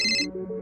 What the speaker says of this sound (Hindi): अनिका भी हैरान थी जब उसे उसके अतीत से जुड़ा एक फोन आया